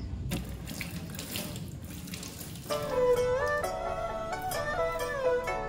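Water from a household tap pours steadily into a bucket, a continuous close rushing stream that turns brighter and more gurgling as the bucket fills, with no talking.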